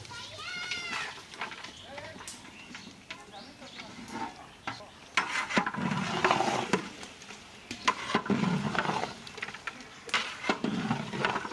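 Meat is tipped into a pot of fried spice paste for a curry. Wet sizzling and stirring clatter come in bursts, with voices talking over it and children audible in the background.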